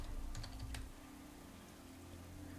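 Brief cluster of quick key clicks typed on a computer keyboard, close and soft, followed by a low steady room hum.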